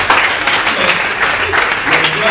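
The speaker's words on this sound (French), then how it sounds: "Les femmes, est-ce que vous pouvez vous applaudir pour vous-même?" Loud, close applause from an audience of women at a Microsoft event in Abidjan, dense clapping in surging waves with some cheering voices mixed in.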